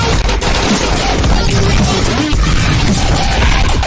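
Rapid bursts of gunfire crackle in a shootout in MadOut 2, an open-world action video game, loud and dense over a mix of crashes and background game noise.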